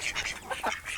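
Ducks in a converted goat pen coop quack in a rapid run of several nasal calls, close and moderately loud, with no talking.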